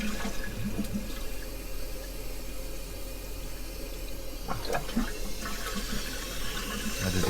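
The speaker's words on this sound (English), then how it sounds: "I have to do a double flush there." A toilet flushes after its flapper has been repaired, giving a continuous rushing gurgle of water from up close. A surge toward the end suggests a second flush.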